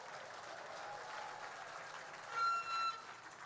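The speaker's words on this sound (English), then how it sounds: "If you are happy with this new day, give us a round of applause" A campaign rally audience applauding at the unveiling of a governorship manifesto, a steady wash of crowd clapping throughout, with a brief voice rising over it near the end.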